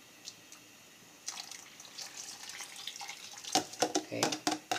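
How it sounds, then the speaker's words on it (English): Coconut milk poured into a pot of tender corn for ginataang mais gives soft liquid pouring and splashing that builds midway, with a few sharper clinks near the end, fairly close and moderately quiet. "We can add, coconut milk."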